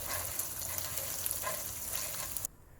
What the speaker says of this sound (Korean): 준비한 계란을 부어 부드러운 스크램블을 만들어줍니다